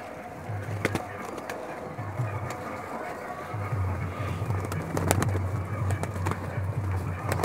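Pet pigeons in a loft coo in low, repeated throaty phrases, several overlapping at close range over faint background noise and occasional clatter.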